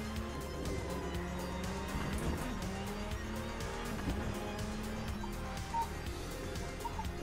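A Ferrari race car in a Le Mans racing video game: a continuous engine drone rising and falling through gears, with tire squeal and skidding, heard fairly faint and without talk.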